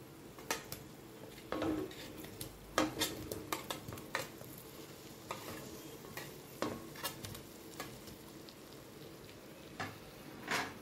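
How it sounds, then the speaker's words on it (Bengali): Potatoes are stir-fried in spice paste in a pan, with a soft background sizzle under intermittent close clinks and scrapes of a spoon against the pan, no talking. "আলুগুলো দিয়ে এবার কষাবো"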